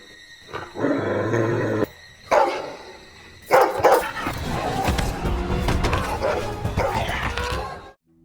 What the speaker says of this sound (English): A fight ensues between him and the hound